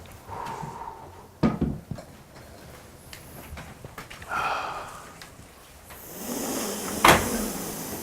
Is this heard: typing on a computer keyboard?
no